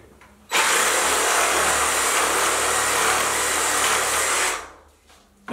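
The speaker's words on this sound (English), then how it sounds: "when I do use the sawzall, make sure I have my eye protection on" Reciprocating saw cutting through an animal's leg bone during farm butchering, a loud steady buzzing roar that starts abruptly, runs about four seconds, then cuts off and winds down.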